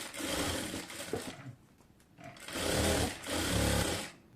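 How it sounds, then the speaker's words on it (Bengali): Sewing machine stitching the side seams of a girl's half pant, running in two loud, steady bursts separated by a short pause, close and alone with no talk. "তো আমি হচ্ছে হাইটাকে প্রথমে সেলাই করে নেব।"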